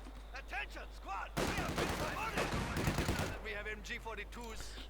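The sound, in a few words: machine gun fire in Company of Heroes 2 video game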